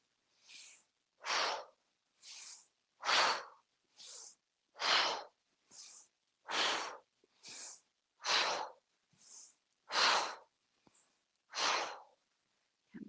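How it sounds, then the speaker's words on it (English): Slow rhythmic breaths during a qigong exercise, drawn in through the nose and pushed out through the mouth, about a dozen airy sighing exhales separated by short silent gaps, close and clear. "we inhale through the nose and then exhale out the mouth"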